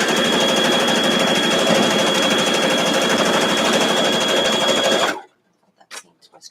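A Brother CP60X sewing machine stitches a quilt seam in a fast, even whirring run at close range, stopping abruptly after about five seconds, with faint sounds after it stops.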